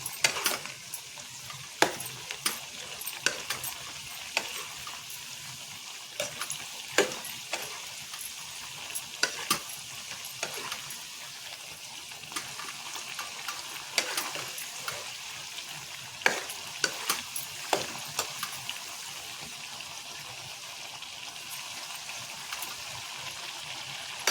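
Gooseberries frying in oil for pickle, a continuous close sizzle broken by frequent sharp scrapes and clinks of a spoon stirring against the pan.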